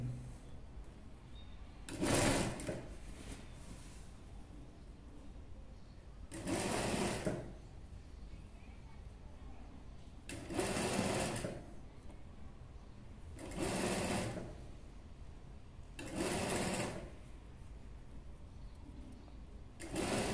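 A sewing machine sews a boat neck dress with thread piping. Five short, loud bursts of stitching are separated by quieter pauses of handling, all fairly close by.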